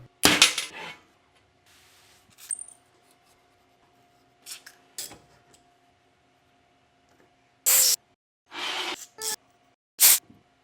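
A steel thread tap is worked through a bolt hole on a turbocharged Toyota KE70 Corolla, giving sharp scraping and cutting rasps in short irregular bursts separated by quiet pauses, close up with no talking.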